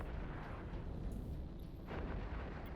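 Heavy battleship guns on a Machariel keep booming in a dense, continuous barrage in Eve Echoes, loud low rumbles overlapping with scattered sharper bursts and no pauses.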